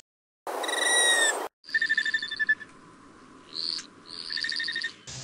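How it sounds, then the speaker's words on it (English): Anna's hummingbird tail feathers producing sharp, high whistling chirps in short bursts, close and clear against a steady hiss of background, with several separate pulses spread across a few seconds. "the sounds that the hummingbirds are making with their tail feathers are louder than their vocalizations"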